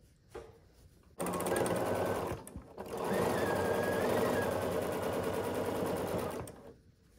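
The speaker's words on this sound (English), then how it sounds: "I'm just sewing one to another." A sewing machine stitching quilt rows together, running in a steady, fast mechanical whir for several seconds, pausing briefly, then starting again before slowing to a stop; close and fairly loud, with no talking.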